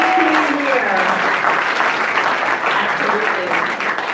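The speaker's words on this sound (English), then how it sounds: "So if you could please give a round of applause for everyone behind the scenes," A gala crowd applauds the behind-the-scenes team at an MLK leadership awards event, a loud, dense roar of clapping that fills the room and holds steady, with voices mixed into the wash.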